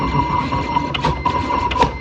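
A Siser Romeo 24-inch print and cut machine cuts with a quiet, steady mechanical whir and soft motor hum, broken by faint scratchy bursts as the blade moves.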